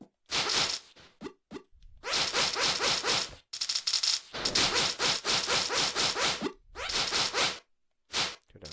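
Coins are picked up in the platformer Slayer Knight as quick bright metallic chimes and jingles, arriving in several dense bursts with short silent gaps between them, fairly quiet, with no talking.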